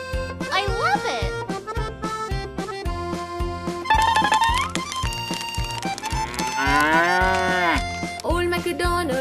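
A cow moos repeatedly in a steady, close, loud rhythm over a bouncy nursery-rhyme song about a farm, with long drawn-out lowing calls and singing voices throughout.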